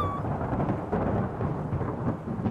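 A thunderstorm rumbles through a dark indie horror game, with a low rolling roar and the hiss of rain filling the scene steadily and without voices.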